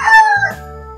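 A single rooster crows close by, a loud, brief, strained call that drops in pitch toward the end.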